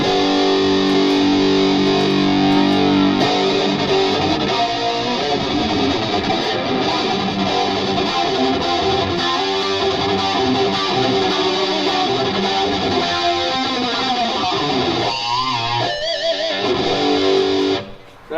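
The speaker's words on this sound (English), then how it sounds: "So that's the chorus, and it's very noticeable. It's very lush, not digital sounding" A sustained, shimmering electric guitar plays chords and riffs through a Digitech iPB-10 modeler with a lush, wavering chorus effect, loud and continuous without any talking.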